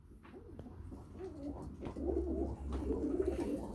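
Pigeons coo close by in a loft, soft repeated rolling coos overlapping one another over a low steady hum, with no talk.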